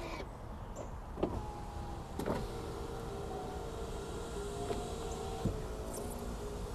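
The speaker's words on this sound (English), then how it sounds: "let's see if we can put all the windows back up" BMW E39 5 Series power windows closing, a faint steady motor whir with a few soft clunks as each window seats, no talking.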